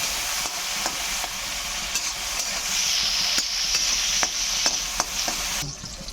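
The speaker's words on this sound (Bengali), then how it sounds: "এবার প্রথমেই দিয়ে দেবো টমেটোটা ফোড়নের মধ্যে।" Tomato frying in hot oil with tempered spices for a village-style fish curry, a steady bright sizzle broken by regular spatula stirring taps, close and fairly loud, no voices.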